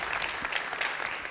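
Audience clapping fills the room at a talk about conspiracies, a steady dense patter of many hands held at an even loudness without a break.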